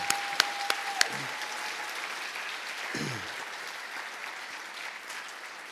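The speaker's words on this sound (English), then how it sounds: "Can we have another round of applause for our 3 seniors today?" Applause from an audience at an oratorical contest, honoring three seniors, a soft, steady patter of clapping heard from a distance, with a few sharp knocks near the start.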